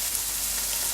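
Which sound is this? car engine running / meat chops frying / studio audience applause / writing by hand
meat chops frying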